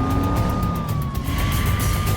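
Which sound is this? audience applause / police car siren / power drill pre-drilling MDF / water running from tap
police car siren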